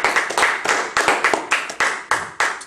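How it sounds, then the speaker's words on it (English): Rhythmic hand clapping from a church congregation in praise, a steady series of sharp, loud claps from several people falling in a quick regular beat without speech. "we need to give God a hand clap of praise."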